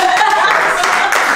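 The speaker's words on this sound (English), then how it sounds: "Can you guys please give a warm round of applause to Molly" Applause from an audience at a celebration event in South Africa, a short burst of steady, dense clapping that fills the clip, with voices mixed in.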